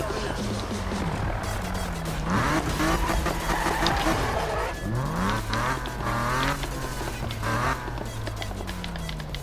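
Racing car in the Need for Speed video game drifting and skidding, engine revving with rising and falling pitch sweeps and tire noise, loud and continuous, with someone talking over it.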